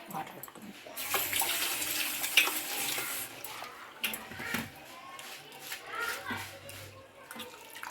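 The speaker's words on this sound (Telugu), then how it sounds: "అందుకే నేనైతే ట్యాప్కే కడిగేసుకుంటా" Water runs steadily from a tap, a broad hiss with splashing, while a person talks over it.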